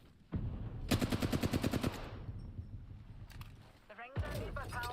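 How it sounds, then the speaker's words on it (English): A rapid burst of automatic gunfire in a video game, about a dozen close evenly spaced shots, followed by a quieter stretch and then further clicks and shots, with a voice talking over parts of it. "they're shooting at me"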